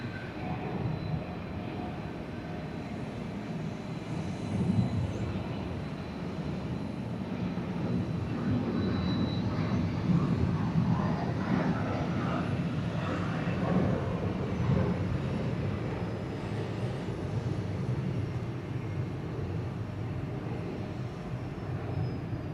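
A Delta Boeing 717 airliner passes at Atlanta airport, its jet engine roar rising from a distant rumble to a broad, sustained peak before slowly fading, heard from some distance over outdoor ambience.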